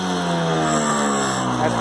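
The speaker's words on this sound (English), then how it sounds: "It will get brighter as you rev it up." A 1979 Vespa P125 scooter's small two-stroke engine runs close by with a steady, buzzing drone and only slight shifts in pitch, loud and continuous throughout.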